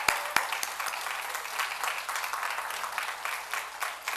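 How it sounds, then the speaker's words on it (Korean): A church congregation at a NY KEA service applauds the ILTP choir, a modest, steady patter of clapping heard from a distance in a large room. "다시 한번 큰 박수 부탁드리겠습니다"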